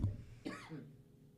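A single throaty cough bursts out near the start, followed by a second rougher cough and trailing breath, close and fairly quiet.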